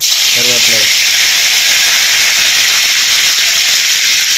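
Curry leaves sizzling in hot oil for mutton chukka, a loud steady hiss of frying that runs the whole time, with a brief burst of speech near the start.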